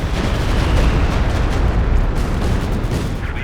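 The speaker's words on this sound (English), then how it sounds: "Another good Walking Stuka barrage" A Walking Stuka rocket artillery barrage in Company of Heroes 2 erupts as a dense, loud, continuous roar of overlapping blasts and rumbling booms with no pauses between them.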